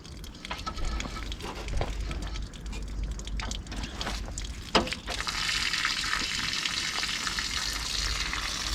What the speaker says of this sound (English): So what you want to do is place your bucket directly under said tap, and then we will drain the coolant.